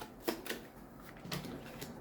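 Quick riffling and snapping of a deck of game cards being shuffled on a tabletop before a Marvel Crisis Protocol match, several short crisp bursts, faint and close.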